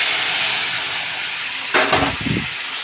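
Cooked chana dal poured into a hot tempering, a steady hiss that bursts into a loud, close sizzle and splutter, then continues in a second short surge.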